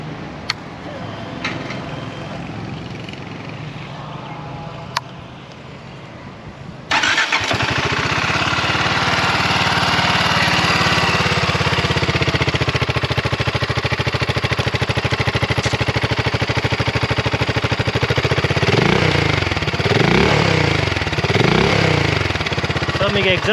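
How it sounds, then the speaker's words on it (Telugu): BSA Gold Star 650 single-cylinder motorcycle: after a few quiet seconds of handling noise the engine fires up and settles into a loud, steady, throbbing exhaust note close by, with a few revs near the end and some talk underneath. "సో ఎగ్జాస్ట్ నోట్ అయితే విందాము."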